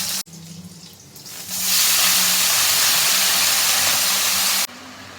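Garlic sizzling in hot oil in a wok, a loud steady hiss that swells suddenly and holds broad and close, then cuts off abruptly near the end.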